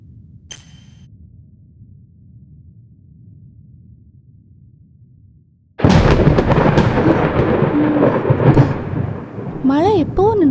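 Thunder during lightning in a city setting at Chennai, a sudden loud rumbling crash after quiet, rolling on with rain-like hiss and a few brief tonal sweeps at the end.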